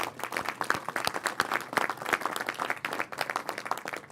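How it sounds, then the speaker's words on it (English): Audience applause at a Detroit press conference, many hands clapping in a dense, continuous patter that holds steady for several seconds. "Let's give them a round of applause."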